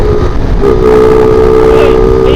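A Raider motorcycle engine runs loud and close, holding a steady droning tone throughout, with wind-like rumble underneath on a ride near Mapanuepe Lake in Zambales.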